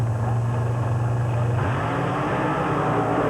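Monster trucks drag racing at a 1994 thunder drags show in Canfield, Ohio roar loudly and steadily, with engine pitch shifting as they launch down the track.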